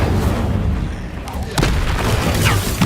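Incendio fire spell cast in Hogwarts Legacy on PS4, a roaring whoosh of flame with booming bursts, loud and sustained across the moment amid dense game sound.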